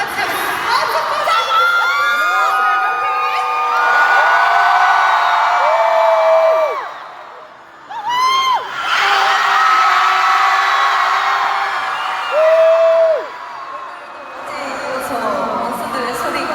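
A concert crowd at a show in Orlando cheers and screams in loud sustained waves of high-pitched shrieks and whoops, briefly dropping off midway before surging again.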